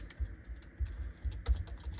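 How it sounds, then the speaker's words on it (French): Keys on a computer keyboard are tapped in a quick irregular run of soft clicks, close and fairly quiet, with no speech. "En fait, j'arrive pas à naviguer avec le clavier."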